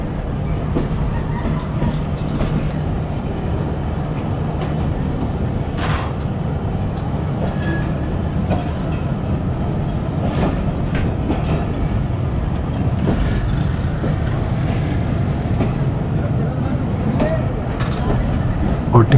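The Pakistan Express train pulls slowly away from Tando Adam station with a steady, close rumble and rhythmic wheel clatter, while someone talks over it.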